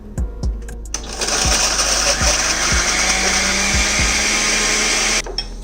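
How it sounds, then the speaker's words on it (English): A kitchen blender minces sliced ginger, its motor roaring at a loud, steady, high whine for several seconds after a few clicks and taps, then cutting off abruptly. "you place the sliced ginger inside the blender and then mince it very well"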